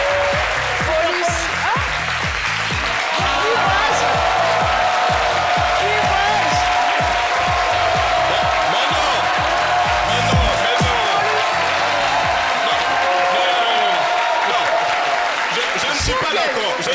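Studio audience on a French TV talk show applauds and cheers, with whoops and laughter in a sustained loud crowd roar, a host's voice talking over it throughout.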